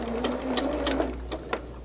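A sewing machine runs close by, stitching quilting fabric in a fast, steady mechanical whir with rhythmic clacks, uninterrupted for nearly two seconds.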